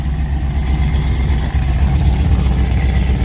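A Whipple-supercharged, cammed Ram truck idles loudly on a near cold start, its worn muffler giving a steady low, rough rattle close to the exhaust.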